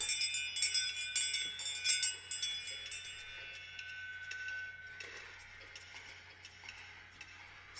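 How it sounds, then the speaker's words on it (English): Small bell struck several times in quick succession during a hypnosis meditation, bright clear rings that cluster early, then decay into softer, sparser chimes over a low steady hum. "As you hear my bell ring, you can really let yourself drop down deep."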